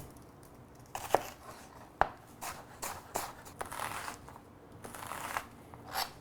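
A knife chops half an onion on a cutting board while preparing a vegan shepherd's pie. Sharp, irregular crunching strokes land close by, a few sounding louder, with soft scraping and rustling in between.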